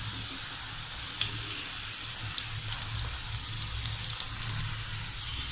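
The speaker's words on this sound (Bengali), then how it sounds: "এক পিঠ ভাজা হয়ে গেলে আমি উল্টে আরেক পিঠ ভেজে তারপর চিনি শিরায় দিয়ে নিব।" Small fish-shaped pitha frying in hot oil, a steady close hiss and crackle of bubbling oil throughout, with no voices.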